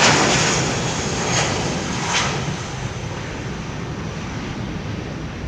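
A Boeing 757 roars past on landing at London Heathrow, a loud broadband engine rush that fades gradually, heard alone without talk.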